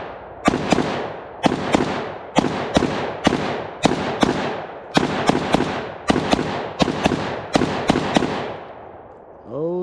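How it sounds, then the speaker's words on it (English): About fourteen sharp, loud 5.56mm shots from a Zastava M85 AKSU-style pistol crack out at an outdoor range in a steady, evenly spaced rhythm, each with a short ringing tail. "let's cut back to some range footage"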